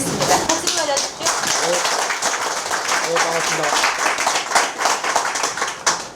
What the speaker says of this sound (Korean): 박수 좀 맞아주십시오.